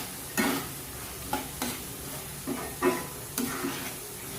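Boiled potatoes and peas for vegetarian ghugni being stirred and sautéed in a pan, with several separate scraping stir strokes over a soft sizzle, close and fairly quiet.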